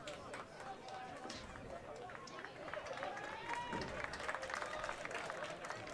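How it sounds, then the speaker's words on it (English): Gold Star FC Detroit reserves clap for a substitute coming off during a soccer match against Michigan Stars FC, a moderate wash of applause and crowd murmur beneath a commentator speaking throughout. "Roddy Green getting nice applause from a lot of the Gold Star reserves that are down below us."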